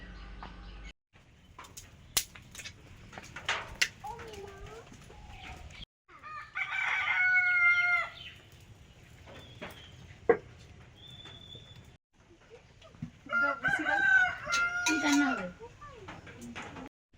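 Hens cluck and a rooster crows on a small rural farm with three chicken coops, several bursts of crowing and clucking near and loud among quieter calls and outdoor background noise.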